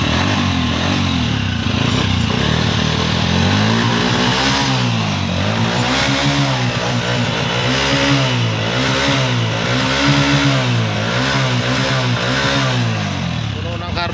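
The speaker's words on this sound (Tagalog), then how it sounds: "Birit, birit." A motorcycle engine, just tuned after an electrical fault, revs hard again and again in loud rising and falling surges, close by and sustained for the whole stretch.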